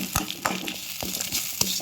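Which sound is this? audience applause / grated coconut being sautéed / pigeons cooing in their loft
grated coconut being sautéed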